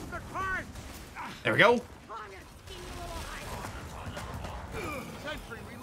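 Rapid gunfire in Gears of War 4 during a heavy horde match, with bursts of shots and a loud crack near the middle, mixed with game noise while a person talks over it.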